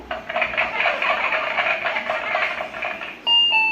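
A dense crackle of recorded applause from a toy plays steadily for a few seconds, then cuts to a brief electronic tone.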